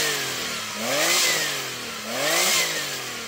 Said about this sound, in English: let's hear the 964, rev that up.